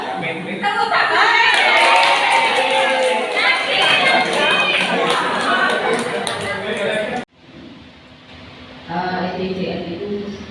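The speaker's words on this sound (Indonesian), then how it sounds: "Tepuk tangan." An audience at a school planning workshop claps for several seconds, a dense, close burst of applause with some chatter and laughter, which cuts off abruptly and is followed by quieter murmuring and a brief return of noise.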